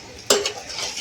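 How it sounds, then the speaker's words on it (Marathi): Rice pulao with peas is stirred in a pan. A single sharp scrape of the spoon is followed by a soft, brief sizzle and rustle of grains. "राईस असा हलवून घ्यायचा."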